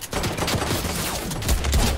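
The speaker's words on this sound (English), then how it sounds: "maybe we use our SMG on this guy" Rapid SMG fire in a video game, loud dense bursts of shots rattling close with a heavy low thump near the end, no talking.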